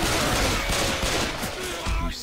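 Video game gunfire rattles in dense, rapid bursts, loud and continuous through a chaotic scene, easing off briefly near the end.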